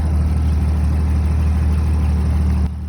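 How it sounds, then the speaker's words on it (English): Jeep engine idling outside a shop before cleaning, a steady loud low rumble with a constant hum, running alone without talk. "Jeep running."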